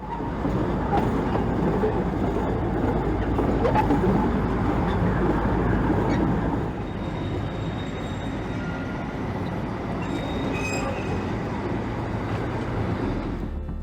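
A small Indian mountain toy train rolls along its rails with a continuous rumbling clatter of wheels and carriages, louder for the first half and then settling into a slightly softer, steady run.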